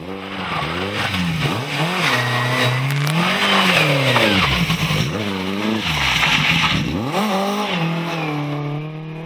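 Historic rally cars, led by a Porsche, at the Chris Kelly Memorial Rally, a loud nearby engine revving hard through repeated gear changes, rising and falling pitch with brief tyre scrabble, no voices.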